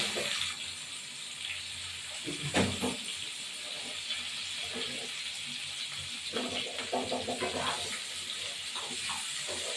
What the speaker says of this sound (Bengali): কুমড়োগুলো দিয়ে দেবো কুমড়োগুলো দিয়ে দিলাম